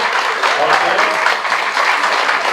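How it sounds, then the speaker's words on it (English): Audience applause for a school jazz combo at a Wall of Honor ceremony, a steady dense wash of clapping held at a constant level throughout, fairly close and with no voices standing out. "can we give a round of applause to Mr. Kaminsky and the jazz combo?"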